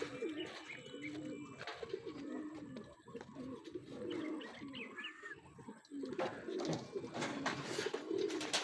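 Racing pigeons coo softly at a pigeon race derby, repeated low rolling coos overlapping one another, with small chirps and faint background voices nearby.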